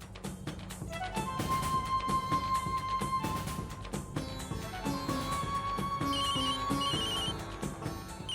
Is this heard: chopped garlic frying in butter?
no